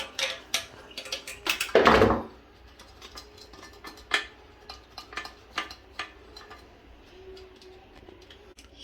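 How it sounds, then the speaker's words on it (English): Pliers loosening nuts and screws on a bathroom exhaust fan, heard as sparse metallic clicks and ticks with a louder clattering scrape near the start, then scattered small taps, close and fairly quiet, with no voices. "now I'm going to open these two screws, and I'm going to use one plier"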